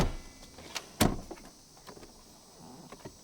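A compartment door and lid in a Pajero converted into a camper are shut in a few thuds and clicks, with one sharp close knock and smaller rattles after it, fairly near and quiet.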